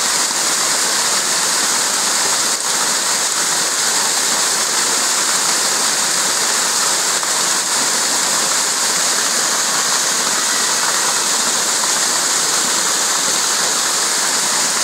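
A waterfall seen from below on a summer hiking trail pours with a loud, constant broadband roar and hiss, steady and unbroken throughout, with no voices over it.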